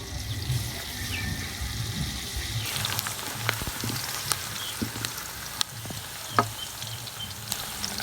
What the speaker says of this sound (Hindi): और इनको हल्का सा सुनहरी गोल्डन होने तक भून लेंगे।